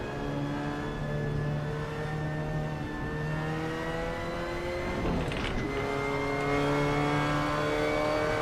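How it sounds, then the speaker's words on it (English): Race car engine in the Assetto Corsa driving sim, a steady loud droning whine holding pitch, dipping briefly mid-clip as gears change, then climbing again under acceleration. "This car is rather loud."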